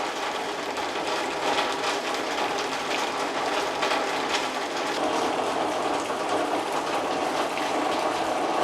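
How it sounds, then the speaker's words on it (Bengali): Heavy rain drumming on a tin roof in a Bangladeshi village, a dense, continuous roar of droplets with no breaks, close and loud throughout. "বৃষ্টির দিনে টিনের চালে বৃষ্টির শব্দ"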